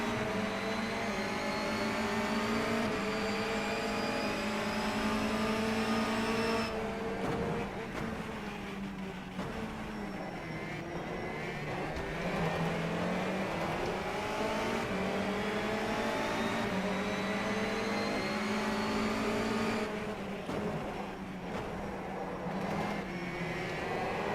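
A race car engine in the sim racing game rFactor 2 revs up and down through gear changes for the whole stretch, with a steady, droning whine that rises and falls through corners.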